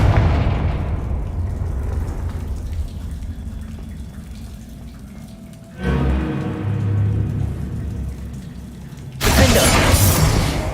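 Spell blasts in a fantasy video game: a heavy booming explosion rolls and decays, then a second impact lands midway with rumble and debris, and a sharp, bright crashing burst erupts near the end.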